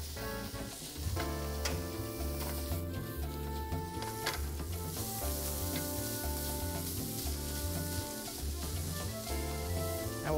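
Lobster meat warming in butter in a pan, a soft continuous sizzle beneath a rhythmic, repeating musical background.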